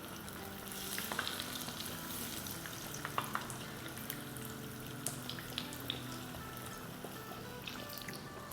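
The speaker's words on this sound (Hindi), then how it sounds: "तो बस उलटते पुलटते हुए 8 से 10 मिनट तक इसे फ्राई कर लेंगे" Chilli pakoras frying in a pan of hot oil, a steady, fairly soft bubbling sizzle with occasional light clicks as they are turned, continuous throughout and without speech.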